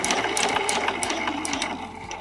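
A sewing machine runs a rapid, even stitching rhythm over fabric while making a mini tote bag, close and steady for the whole stretch with no talk.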